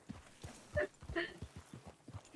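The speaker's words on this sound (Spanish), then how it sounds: "Estoy cabalgando a Luna" Horse hooves clip-clopping in an even walking rhythm while riding in a roleplay video game ranch setting, close and moderately loud, with some faint voice-like sounds mixed in.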